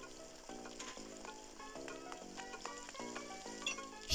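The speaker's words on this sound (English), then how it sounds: "Just cooking stuff on the grill." Food sizzling on a grill in the video game Animal Crossing New Leaf, a soft crackling frying texture alongside a repeating, rhythmic game music tone pattern, quiet and continuous.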